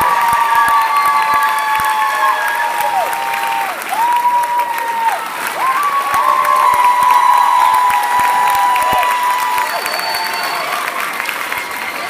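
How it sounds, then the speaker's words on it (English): A school audience at a spring fine arts showcase breaks into sustained applause with cheering and a few whoops, a steady roar of clapping that fills the room from start to finish. "Let's give a round of applause for him."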